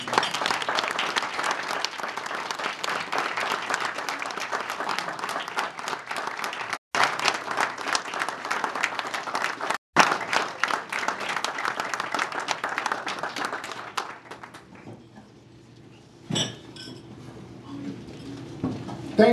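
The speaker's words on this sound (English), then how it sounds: "Will you join me in applauding Mark Clements?" An audience applauds Mark Clements in a hall, with dense, sustained clapping that runs loud for about fourteen seconds, thins out and fades, followed by a few scattered claps and faint room noise.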